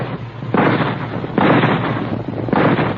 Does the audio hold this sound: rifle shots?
yes